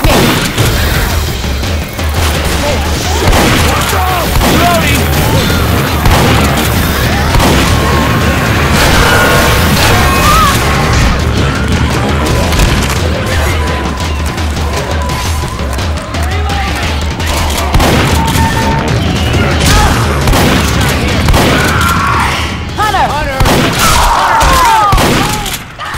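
Continuous shotgun fire and crashing combat in the zombie video game Left 4 Dead 2, dense overlapping blasts and impacts filling the whole stretch, with voices talking underneath.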